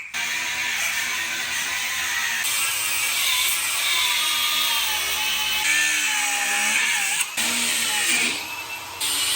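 A power tool cuts through the sides of a steel seat bracket from an 08-13 Silverado/Sierra, a steady loud grinding whine running nearly unbroken for the whole stretch, with only brief dips in pitch.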